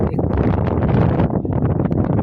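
Strong wind buffets and roars loudly and continuously, a rough, gusty rush close to the microphone.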